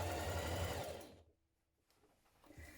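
A sewing machine stitches the shoulder and side seams of a dress lining, a fast, close mechanical whirring burst that stops after about a second, leaving near quiet with faint rustling.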